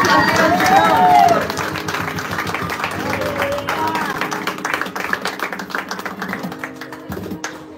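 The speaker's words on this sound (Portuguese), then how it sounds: "Você pode aplaudir o Senhor." A church congregation applauds during a tent inauguration service, with loud, dense clapping and crowd noise that starts strongly and settles into steadier, scattered claps while voices carry underneath.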